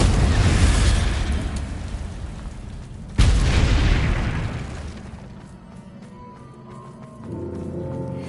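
Confringo and Bombarda spell explosions from the video game Hogwarts Legacy, two loud booming blasts a few seconds apart, each fading into a rumbling tail before quieter game sounds.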